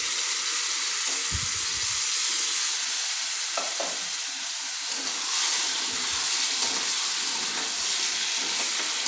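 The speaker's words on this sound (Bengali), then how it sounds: "এবার আমি সিদ্ধ করে রাখা কাবলি ছোলা আর আলুটা দিয়ে দেবো" Boiled kabuli chickpeas and potato hit a pan of frying spices, giving a steady moderate sizzle and hiss with a few soft stirring knocks, no voices.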